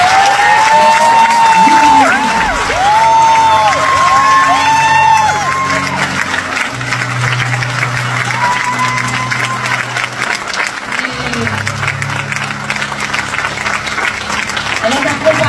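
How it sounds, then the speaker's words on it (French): An audience applauds and cheers for Vanessa Benjamin at a ceremony, steady crowd clapping with whoops running throughout, while an amplified voice talks and calls out over the noise. "je vous demande d'applaudir très très fort Vanessa"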